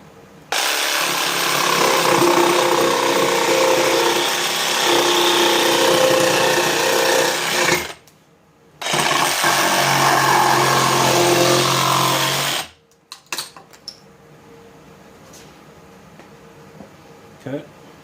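Plasma cutter slicing a pair of metal brackets, a loud continuous broadband hiss and roar running in two long passes with a short break between, then cutting off into quiet with a few faint clicks.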